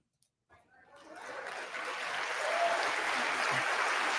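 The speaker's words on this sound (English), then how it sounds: "What are you idiots clapping for?" Applause at the State of the Union address starts abruptly and swells into a dense, sustained crowd clapping that grows louder and fuller over several seconds, heard as if through a broadcast.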